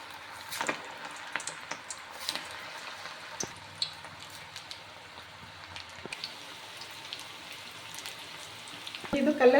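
Cauliflower pakoda frying in hot oil over a low flame, a soft steady sizzle with faint crackles and pops throughout and a brief louder clatter at the very end.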